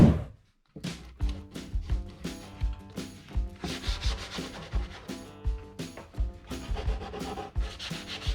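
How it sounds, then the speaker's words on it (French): Resin-coated wooden rub rails being sanded by hand, a steady run of rhythmic rubbing strokes with short scraping bursts, close and fairly loud after a brief pause at the start. "encore un bon quart d'heure, 20 minutes de ponçage et c'est bon"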